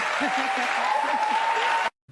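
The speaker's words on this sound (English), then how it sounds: "Why are we cheering for this, audience?" An audience claps and cheers in a steady, dense wash of applause that is close and loud. A speaking voice cuts through it until the sound stops abruptly.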